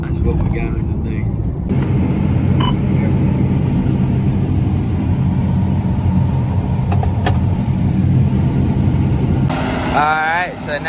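Two John Deere S780 combine harvesters running in a soybean field, a loud steady engine drone that persists throughout, with a voice speaking over it and a shrill whine near the end.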